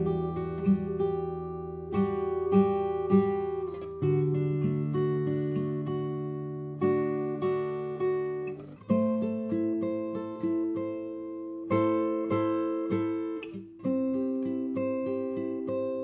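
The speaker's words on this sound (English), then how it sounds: "I want to show you how we can use the strumming on just the top 3 strings" Acoustic guitar strummed upward with the thumb on only the top three strings, ringing chord after chord in a steady pattern with clear onsets, close and alone without talk.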